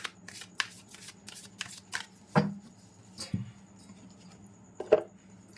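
Oracle cards being shuffled by hand, a soft papery riffle broken by sharper taps and flicks as the deck is handled, close and fairly quiet.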